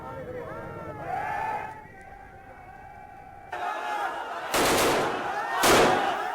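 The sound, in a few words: police gunfire fired into the air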